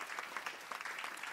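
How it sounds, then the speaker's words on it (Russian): A short burst of audience applause at a televised vocal show, quiet and steady rapid clapping lasting just over a second. "Аплодисменты."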